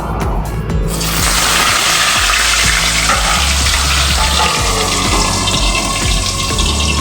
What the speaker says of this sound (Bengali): এবার আমি একটা একটা করে বল মাছগুলোকে ভেজে নেবো